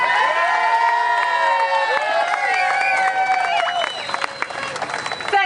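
A rally crowd bursts into loud applause, cheering and shouting, with high whoops and screams riding over steady clapping, sustained close and energetic before it thins slightly toward the end.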